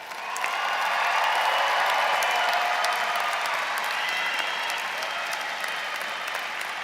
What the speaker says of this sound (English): It is now your time to give yourselves a big round of applause.